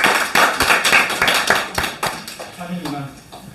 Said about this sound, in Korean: 함께 환영의 박수로 맞아 주시겠습니다